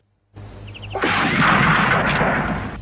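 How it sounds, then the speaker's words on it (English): A pistol with a cork in it, fired in a film to shoot a cigarette out of a man's mouth: a few faint ticks, then one loud, close blast that rings on as a sustained roar. "Final test is to shoot the cigarette right out of his mouth."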